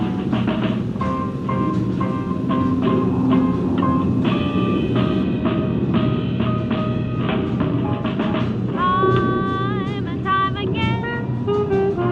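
Train ride in the video game Portal Stories: Mel, a steady rolling rumble with rhythmic clicks and tonal whines, accompanied by background music throughout.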